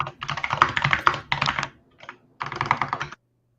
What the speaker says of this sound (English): That typing's still coming through.